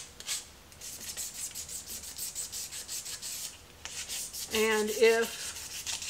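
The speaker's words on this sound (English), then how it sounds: "So I'm doing the inside here of the sanding." Hand sanding the inside of a Jeep grille with sandpaper: steady rhythmic back-and-forth scraping strokes, close by, with a brief pause and a few spoken words partway through.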